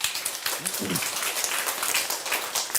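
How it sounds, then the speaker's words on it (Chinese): Audience applause from students at a live afternoon public lecture, steady dense clapping throughout, moderately loud with a brief murmur of voices near the start. "来给自己个掌声"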